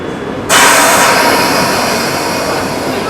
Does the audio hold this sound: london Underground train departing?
yes